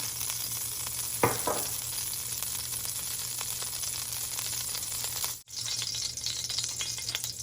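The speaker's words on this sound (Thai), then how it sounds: "ใส่น้ำมันลงไปค่ะ เราจะผัดไฟแรงนะคะ" Oil sizzles hard in a pan on high heat for stir-frying water spinach, a constant close hiss broken by a single clatter early on and a brief dip later.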